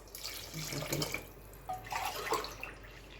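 Water poured from a glass onto rice in a pot for chicken biryani, two short splashing pours close by, quiet and without speech.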